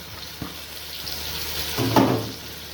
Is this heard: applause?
no